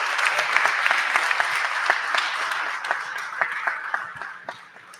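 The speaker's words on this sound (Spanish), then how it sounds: "Les pido un aplauso para ellos." A seated audience at a panel on active mobility and public transport in San Luis Potosí's municipal palace breaks into sustained applause for the panelists, dense and even, fading toward the end.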